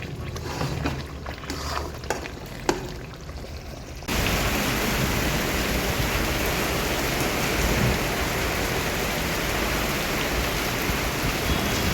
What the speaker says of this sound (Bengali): উঠে দেখছি একদম ঝরঝরিয়ে বৃষ্টি পড়ছে আর বাতাসও আছে প্রচুর।